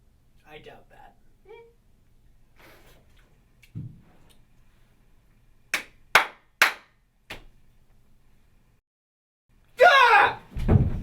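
A few sharp hand claps ring out in a quiet room, three or four spaced isolated smacks, with faint talk before and a loud shout afterward.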